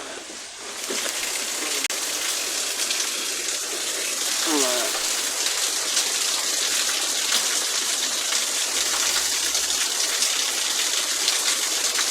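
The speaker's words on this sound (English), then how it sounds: "Still raining as fuck." Steady, dense rain hisses continuously, a broad wash of patter; a voice speaks briefly partway through.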